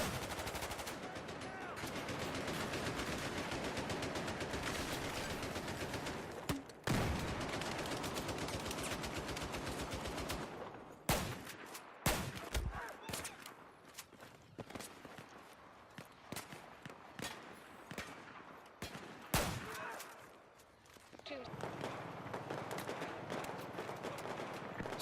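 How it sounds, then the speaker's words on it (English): In the video game Battlefield 4, a squad lays down suppressing fire on a vehicle: sustained rapid machine-gun bursts, then sharp, irregular volleys of gunshots separated by brief gaps, loud and close. "He just commanded his squad to do suppressing fire on that vehicle"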